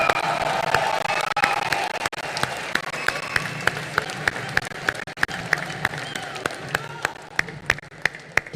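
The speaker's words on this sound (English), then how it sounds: "Keep those claps going for the megastar, Chiranjeevi sir in the house!" A large audience claps for a film star at the closing ceremony of the 53rd International Film Festival of India in Goa: sustained dense applause with sharp individual claps standing out, gradually thinning, with crowd murmur underneath.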